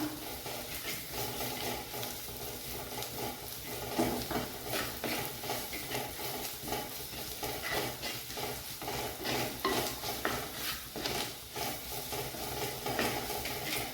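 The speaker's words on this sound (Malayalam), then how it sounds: "ഇനി അതും ഒന്ന് ഇളക്കി കൊടുക്കാം" Turmeric powder is stirred into a spiced buttermilk curry in a pan, with a steady scraping stir over a soft sizzle throughout and no voices.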